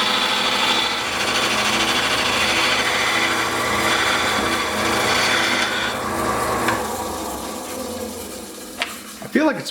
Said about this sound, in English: Alright, back to sanding.